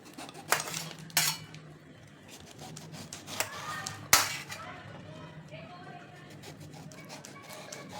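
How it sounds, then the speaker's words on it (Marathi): Raw Totapuri mango cut with a knife, sharp clicks and chops against a board or dish, a few spaced strikes then lighter scraping and clinks, close and fairly quiet. "तर कैरी कापून घ्यायची अगोदर."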